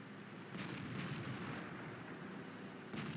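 An M103 tank cannon shot landing a hit in World of Tanks, a heavy booming blast over continuous low rumbling game noise, loud and close.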